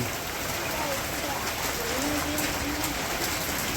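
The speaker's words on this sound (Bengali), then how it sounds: "নামলো না গেল গা হালকা হালকা বৃষ্টি হয়ে" Light rain falling: a steady, even hiss of drizzle on surfaces, with a faint low tonal sound running through the middle of the patter.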